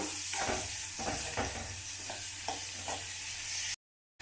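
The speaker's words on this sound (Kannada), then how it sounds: "ಈರುಳ್ಳಿ ಮೆಣಸಿನ್ಕಾಯಿ ಹಾಕಿದ್ಮೇಲೆ ಇದು ಎಣ್ಣೆಲಿ ಸ್ವಲ್ಪ ಚೆನ್ನಾಗಿ ಫ್ರೈ ಆಗಬೇಕು" Onions and dried red chillies fry in oil for a tomato chutney, a steady close sizzle cut by several rhythmic stirring scrapes before falling abruptly silent.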